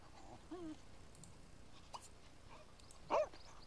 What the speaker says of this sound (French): Oh là, il y a un chien qui est venu dans mon jardin.